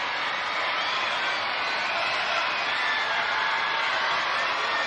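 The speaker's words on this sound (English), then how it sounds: "the perfect finish, and the crowd delighted" Steady roar of a football stadium crowd at Tallaght cheering a goal in a women's World Cup qualifier between Ireland and Slovakia, a dense, sustained wash of cheering throughout.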